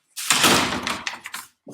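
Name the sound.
door being opened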